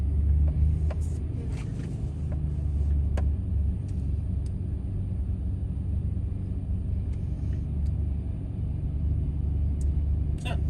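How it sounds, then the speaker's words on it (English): A truck driving over a rough road in a rural Florida area, with a continuous low rumble of engine and bouncing suspension throughout and a few brief knocks and rattles. "The suspension of this truck is horrible."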